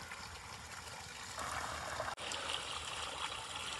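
Water pouring steadily into a 760-foot-deep borewell being refilled for recharge, a continuous close trickling and gurgling flow that briefly cuts out near the middle, then resumes, with no voices.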